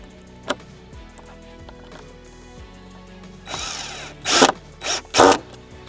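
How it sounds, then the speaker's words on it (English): Power drill driving short screws into the wooden sides of a reflection pool, heard as several loud bursts of whirring near the end after quieter tapping and handling noises. "So I'll start screwing this in."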